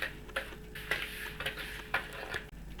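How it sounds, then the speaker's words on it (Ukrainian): Egg yolks are stirred with sugar in a bowl, a spoon or whisk tapping and scraping in a steady rhythm of soft, quiet ticks, close up with no talk. "В миску всипаю цукор, жовтки та розмішую жовтки з цукром."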